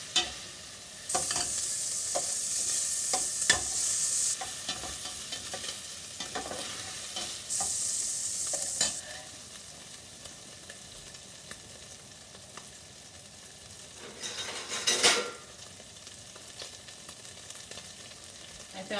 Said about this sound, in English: you want your bacon to cook all the way through, and you want that bacon fat to get rendered